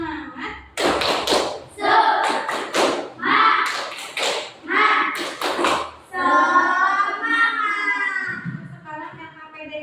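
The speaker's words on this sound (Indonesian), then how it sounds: "Tepuk semangat dulu." A classroom of schoolchildren performs a rhythmic spirit clap. Bursts of claps fall in a steady pattern, mixed with loud chanting voices, and then a sustained sung or called-out phrase follows.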